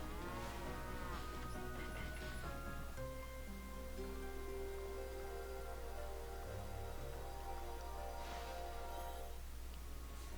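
Cows low repeatedly in the video game Okami HD, long, drawn-out moos over a steady game soundtrack with sustained tones, fairly soft and without talk.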